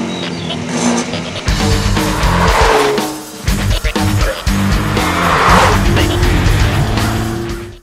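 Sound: BMW 430i four-cylinder engine, car setting off

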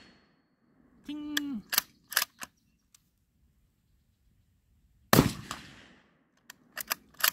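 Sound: gunshots from a short-barreled BCL Bison .223 rifle

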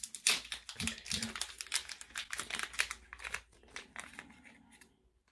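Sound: opening an envelope package

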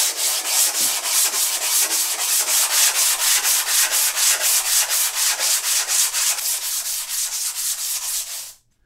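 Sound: belt sander flattening a stone

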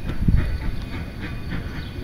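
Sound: Durango and Silverton train moving on rails

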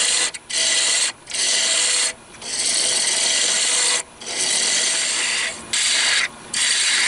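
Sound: roughing gouge removing wood on a lathe

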